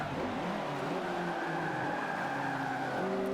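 A race car in Forza Motorsport 5 brakes hard, a steady engine drone shifting pitch as the tires squeal, heard alone at moderate volume.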